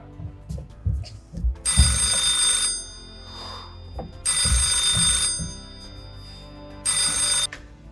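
A telephone bell rings in three loud bursts separated by pauses, with thumping sounds and background noise between rings.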